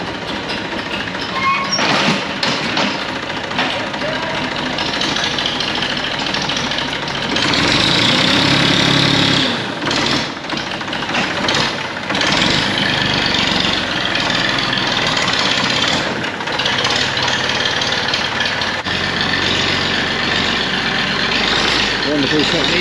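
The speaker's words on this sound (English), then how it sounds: "push the straw that's in here with the scraper tractor into that pen" A scraper tractor working in a cattle yard idles and rumbles steadily throughout, a heavy low engine drone with shifting load, while a person talks over it.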